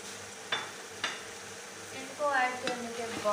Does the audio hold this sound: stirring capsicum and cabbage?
yes